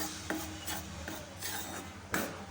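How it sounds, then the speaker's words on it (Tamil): Ragi flour roasting over medium heat in a heavy kadai, stirred with a spatula in slow scraping strokes against the metal, close and moderately loud, a few sharper scrapes standing out, no talk. "அதில் நம்ம எடுத்து வச்ச ஒரு கப் ராகி மாவை உள்ளே சேர்த்துப்போம் அடுப்பை மிதமான சூட்லேயே வச்சுட்டு ராகி மாவை வறுத்தெடுத்துக்க போகிறோம்"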